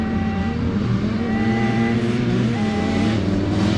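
A brand new 2022 Yamaha YZ125 two-stroke dirt bike is ridden with a loud, continuous buzzing engine note that rises and falls as the throttle changes, close and with no talk over it.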